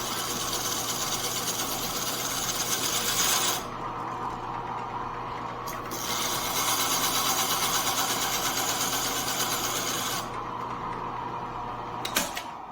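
A chisel edge is ground with a Cubitron abrasive on a power tool, a steady motor hum overlaid by bursts of harsh high grinding hiss that start and stop several times.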